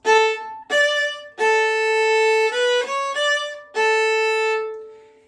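A viola plays a short phrase of separate, detached staccato notes with small gaps between them, clear and close, no voices.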